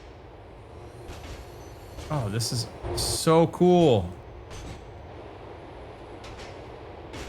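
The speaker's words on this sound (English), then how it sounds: "Oh, the train, press..." A train in the video game Grand Theft Auto 4 rumbles past with a brief burst of squealing, brake-like tonal whine in the middle, while a person talks over it.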